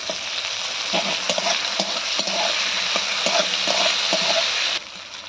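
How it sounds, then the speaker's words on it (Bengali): Cauliflower pieces with chopped ginger fry steadily in hot oil, giving a continuous close sizzle broken by scraping stirs, with the crackle dropping suddenly near the end. "ফুলকপিটা একটু লাল লাল করে ভেজে নেবো।"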